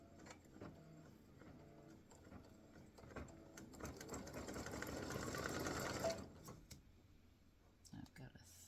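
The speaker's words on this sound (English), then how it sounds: "next thing to stitch is the satin stitch around the outside of that" An embroidery machine runs a satin stitch around a Christmas gnome appliqué, its steady mechanical whir building over several seconds and then stopping, with some speech-like sounds mixed in early.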